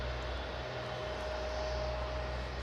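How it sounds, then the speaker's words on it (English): An aircraft engine feathering at Aberdeen airport, a steady droning engine hum with a faint whine, distant and constant throughout. "I can just hear the sound of an engine feathering"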